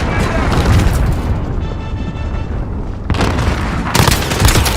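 Booming blasts and heavy gunfire roll through a chaotic multiplayer shooter battle, with a big cruise missile impact rumbling loud and sustained, dense low-end explosion noise filling the whole stretch with bursts near the start, middle and end.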